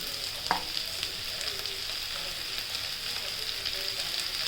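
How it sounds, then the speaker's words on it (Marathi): Spinach and potato for a dry aloo palak sauté in a pan, giving a steady soft sizzle with light stirring scrapes throughout, one brief clink near the start, no talking. "पालक चांगली परतून घेणे"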